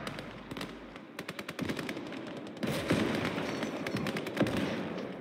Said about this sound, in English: That artillery landed on him, swear to god, man.